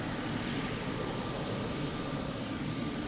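An airliner taking off from runway 02 at Lisbon Airport produces a broad, steady engine roar that holds evenly loud throughout, heard from a distance with no voices.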